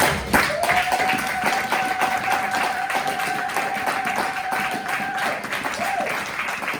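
A church congregation claps together in steady, sustained applause, loud and dense throughout, with a held organ or keyboard tone sounding beneath it.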